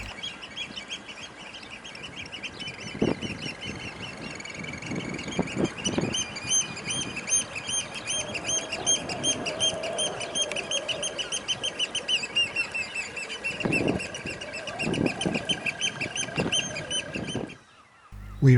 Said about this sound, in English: a flock of oyster catchers gave us a really noisy welcome